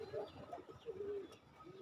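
Soft, low pigeon coos repeat in a gentle rolling rhythm, close by, with faint background noise and no talking.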